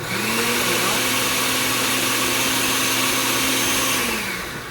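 A blender runs on red salsa ingredients in one loud, steady, close whir that holds for several seconds and then winds down, with no talking.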